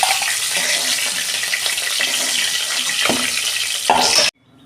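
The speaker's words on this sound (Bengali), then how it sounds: "আমি এরকম চিপে চিপে জলটাকে ঝাড়ে নিচে, দেখুন কতটা জল বেরিয়েছে" Water wrung by hand from boiled taro greens (kochu shak) pours and splashes down in a steady stream, rising briefly near the end before cutting off sharply into quiet.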